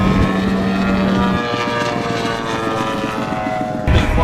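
A radio-controlled model airplane performing 3D aerobatics, its engine or propeller droning continuously at close range with shifting pitch, and a brief louder surge near the end.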